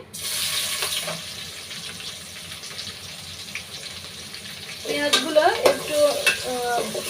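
Chopped onions and whole garam masala sizzling in hot oil for a chicken roast, a steady soft frying hiss with louder stirring scrapes and crackles near the end.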